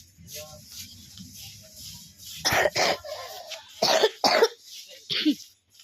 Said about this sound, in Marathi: लय बेकार खोकला लागलेला आहे आपल्याला